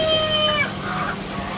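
Chickens clucking close by, a short burst of calls over a quiet farmyard background.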